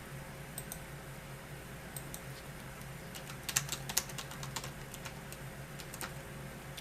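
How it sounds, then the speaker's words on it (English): Someone types on a computer keyboard nearby, a quiet run of irregular key clicks with a few sharper taps midway, over faint background hum and no talking. "Let me just type on the screen here because apparently he can't hear me."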